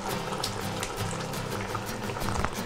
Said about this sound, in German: Das ganze Essen köchelt jetzt vor sich hin, das sollte schon so 10 Minuten dauern